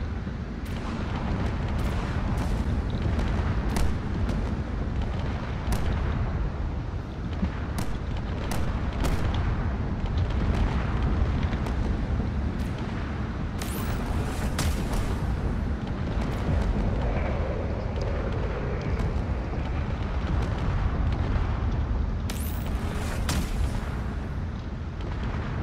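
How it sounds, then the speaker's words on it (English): Railgun fire and explosions in the Drone Wars space combat game, a dense unbroken barrage of booms and sharp cracks with brief bright bursts, loud and steady throughout with no pauses. "A lot of railgun coming over here."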